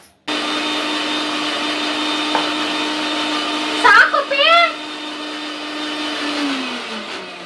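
A kitchen mixer grinder runs steadily as it grinds a chutney of green chillies and coriander leaves. Its loud, even motor whine holds throughout and drops in pitch near the end, while voices briefly speak over it midway.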